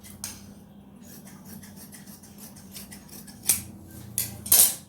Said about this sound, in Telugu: ఇప్పుడు మనం ఈ క్లాత్ వరకు కట్ చేసేసుకుందామండి